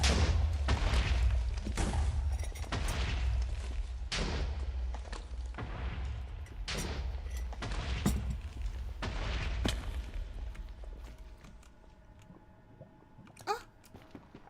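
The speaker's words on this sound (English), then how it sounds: "And let's watch the explosions." Explosions in the video game Minecraft: a series of loud, booming bursts arrive one after another at uneven intervals, then grow sparser and fainter toward the end.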